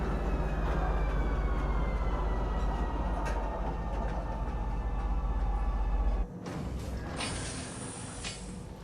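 A train pulling into Central Station in the Star Citizen video game, a steady low rumble and hum for several seconds, then a sudden drop with a bright whine and hiss as it settles to a stop.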